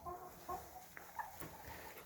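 Chickens cluck softly inside a farm coop in Portugal at dusk, a few scattered clucks at low volume with quiet background noise.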